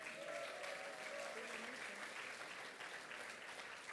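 Congregation at a Quechua-language youth church service applauding for Christ, a steady wash of many hands clapping at moderate distance, with a faint voice or singing underneath.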